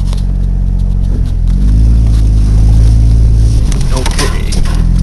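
A vehicle's engine pulls away after being shifted back into gear on a rough two-track through a clearing, a loud close droning rumble whose pitch rises and falls with the acceleration.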